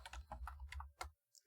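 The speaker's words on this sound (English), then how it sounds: "Keyboard." Computer keyboard typing in a quick run of close, soft key clicks over a low hum, ending in a short pause and a final tap.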